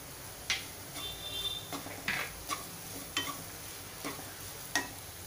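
Ground peanut masala is stirred and roasted in a pan, with a soft sizzle underneath and a series of sharp spatula scrapes against the metal about every half second to second.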